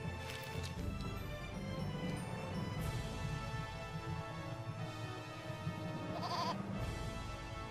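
A goat in the video game Eternal Sonata bleats repeatedly over a steady bed of game music and ambience, its wavering cries moderately loud and close.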